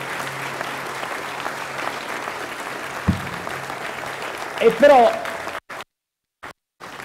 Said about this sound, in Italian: volevo che salutassimo Padre Ugo con un applauso davvero di cuore